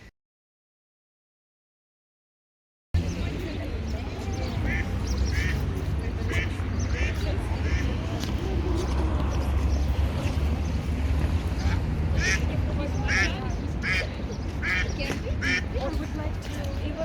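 Repeated quacking from a duck on an outdoor city excursion in Kazan, heard over steady wind noise and a rumbling boat-like background, with people talking nearby; the quacks come in short bursts in the second half.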